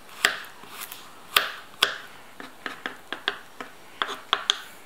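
A knife chops garlic on a cutting board in a series of about a dozen sharp, crisp taps, irregularly spaced and close up, with no talking.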